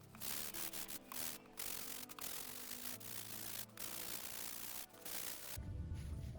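Sandpaper rubs back and forth on a wooden shadow box in steady close strokes with brief pauses, then a louder, rougher scrape near the end.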